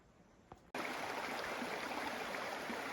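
Flowing water of Farmhouse Creek in the Tasmanian wilderness near Federation Peak, a steady broadband rush that cuts in abruptly and continues loud and close after a brief quieter start.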